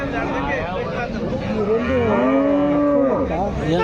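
Several calves moo loudly and close by, drawn-out calls overlapping amid a busy crowd of voices at the Punganur cattle market.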